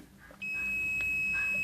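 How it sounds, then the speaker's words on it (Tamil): Multimeter continuity buzzer sounding across a transformer's secondary winding: one sharp, high, steady beep starting about halfway in and holding to the end, clear over quiet room noise. "பீப் சவுண்டு வருது பார்த்தீங்களா, அந்த பஸ்ஸர் சவுண்டு வந்தாவே இது செகண்டரி."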